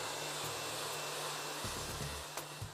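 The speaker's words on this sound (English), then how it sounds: "So just turn your hairdryer onto cold and just give them a little blast with cool air for about a minute or so" A hair dryer set to cold blows a steady, close whooshing stream of air with a low motor hum, running continuously and alone while setting styled hair.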